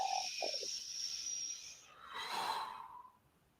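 Slow, airy exhale during a guided breathing exercise, close and soft, a long breathy release following short snuffly intakes, with no talking over it.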